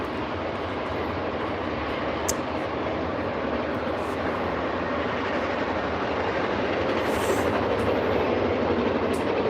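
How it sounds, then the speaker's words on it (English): A passing train hauled by four diesel-electric locomotives roars loudly and steadily nearby, a continuous heavy engine rumble with a broad hiss and faint rail clatter that swells slightly toward the end. "Four screaming diesel electrics."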